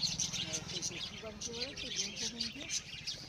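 Budgerigars in a cage give rapid high chirps and twitters that repeat throughout, with a voice talking close by underneath.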